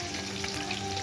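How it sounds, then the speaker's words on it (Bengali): Fish sizzles steadily in hot oil with coriander leaves over a stove, a dense, close crackle with no pause and no voices. "দেখেন খালি মাছটা দেখেন কিভাবে ভাজছি"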